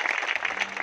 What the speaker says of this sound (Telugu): ଜୋରସେ ତାଳି ଦେବା.